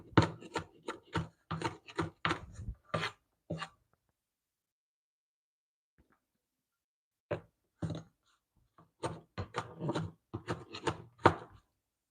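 Onion being chopped into chunks with a knife on a board: sharp, rapid knocks in a quick run, then a pause of a few seconds, then another burst of chops, close and clear.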